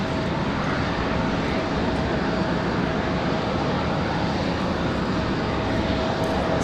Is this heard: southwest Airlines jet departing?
yes